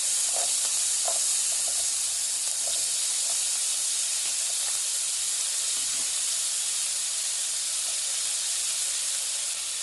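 About a quarter cup of onions hitting a hot pot for Bahamian peas and grits, giving a steady, bright hiss of sizzling that holds evenly throughout with faint crackles and no voices.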